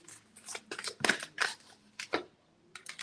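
Tarot cards being shuffled by hand, a series of close, brisk riffling and slapping bursts that come in uneven clusters with short pauses between them.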